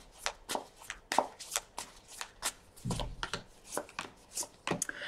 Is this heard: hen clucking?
no